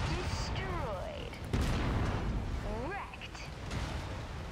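Autocannon fire in the mech combat game Mechwarrior 5: Mercenaries, heavy booming bursts rolling continuously through dense battle noise, with a sharp louder blast partway through and a person talking over it.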